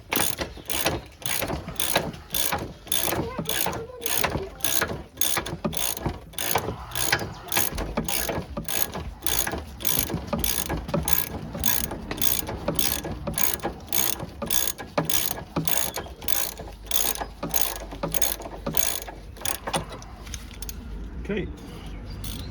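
A ratchet turns a 19mm socket on a Ford Kuga MK2 lower arm bolt, giving a steady fast run of close, loud clicks for over twenty seconds, with a brief pause near the end.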